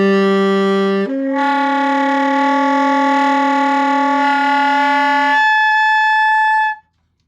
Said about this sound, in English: You should get a multiphonic that sounds like this.